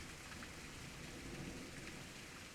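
Steady, dense rain pours down during a storm, a close, even hiss of drops on surfaces with no voices or other sounds over it.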